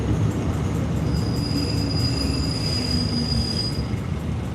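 A small passenger train of a few cars rolls along with a steady, loud rumble and high, thin wheel squeal that runs through most of the stretch, with no talk.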